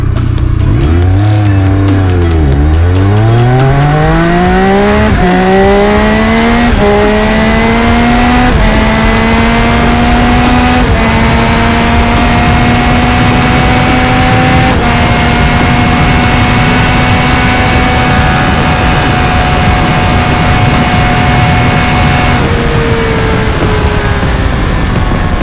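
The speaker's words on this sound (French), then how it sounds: "on va mettre la moto en mode track, sport, track" A Triumph Speed Triple 1200 RS motorcycle accelerates hard in track mode on the German Autobahn, its engine climbing through several gears with a loud, rising whine, dropping briefly at each shift, then holding a steady high-speed drone under heavy wind roar.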